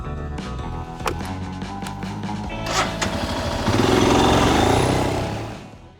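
Strong wind buffets the microphone on a hanging bridge in loud, continuous roaring gusts, with voices briefly talking under it.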